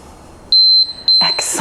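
A workout interval timer gives two sharp, high electronic beeps in quick succession, loud and close, followed by a burst of noisy sound at the end.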